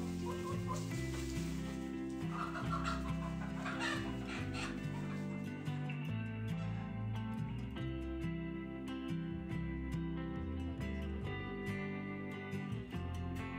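Several Easter Egger chickens cluck and murmur in short, overlapping bursts, close by, with faint rustling and movement around them.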